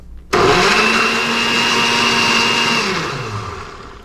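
An electric blender starts abruptly and whirs loudly and steadily while blending almond milk and bananas, then winds down toward the end.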